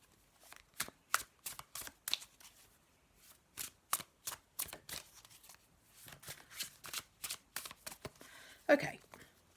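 Tarot cards being shuffled by hand in repeated quick riffling bursts, close and fairly loud, with short pauses between shuffles and a brief louder knock near the end.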